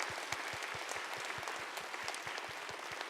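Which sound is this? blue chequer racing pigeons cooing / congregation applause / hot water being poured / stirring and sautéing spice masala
congregation applause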